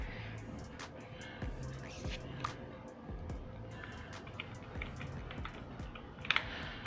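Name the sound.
typing the answer on a computer keyboard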